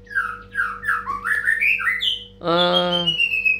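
A white-rumped shama sings nearby: a run of varied whistled and warbling phrases, then a loud, harsh buzzy call at the end, with no talking.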